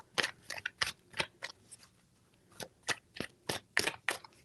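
Tarot cards being shuffled, a string of crisp riffling bursts in quick clusters with a short pause in the middle, close and clear with no talking.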